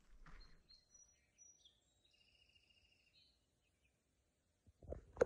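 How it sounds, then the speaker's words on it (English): Birds chirping and calling before dawn around an island campsite in the Boundary Waters wilderness. The thin, high trills and whistles are faint and scattered. A louder rustle or knock sounds near the start, and another near the end. "the birds are telling me to get my butt out of bed"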